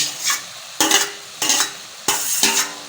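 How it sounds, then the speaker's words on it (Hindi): Small chopped kidney pieces are fried with masala in a pan. A utensil scrapes through the mix in repeated strokes, roughly every second, over a low, constant sizzle. "अब मैं इसमें शामिल कर दूंगी ये गुर्दे, और मैं इसको अच्छी तरह भूनूंगी।"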